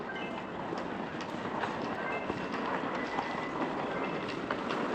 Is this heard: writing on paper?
no